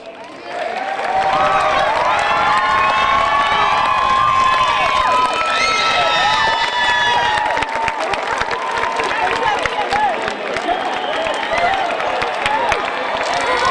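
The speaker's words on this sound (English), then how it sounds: "I'd like to ask you to please stand, and scholars, and give them a round of applause" Crowd at a high school graduation ceremony in a gym with bleachers bursting into loud sustained applause, cheering and high shouts and whistles, starting after a brief quiet moment and continuing to the end.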